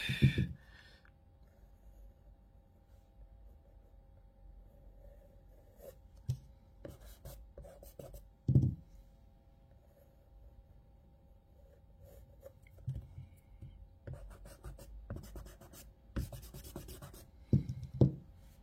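Colored pencils drawing branches on paper, making faint, soft scratching and rubbing strokes in scattered bursts, close up with quiet pauses between strokes.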